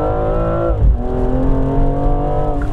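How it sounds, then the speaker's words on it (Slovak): A BMW M235i F22 engine revs hard and loud through paddle-shifted gear changes, with a brief dip in tone at each shift before it climbs again, heard close with no talking. "Jak dobre to znie to auto."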